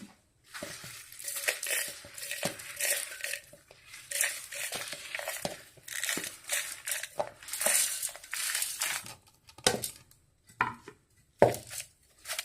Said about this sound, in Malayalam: ഇനി നമുക്കിതൊന്ന് നന്നായിട്ട് പൊടിച്ചെടുക്കാം.